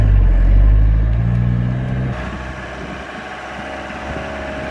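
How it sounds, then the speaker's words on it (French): A camper van's engine labours as it climbs a hill on a road trip in Ireland, with a heavy low rumble that eases after a couple of seconds into steadier driving noise. "Monter à froid comme ça les côtes, le camping-car il apprécie pas du tout."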